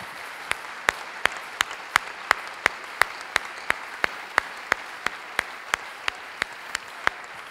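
A church congregation claps to acclaim the Lord in steady, evenly spaced unison beats, about three per second, with sharp, crisp claps and no voices.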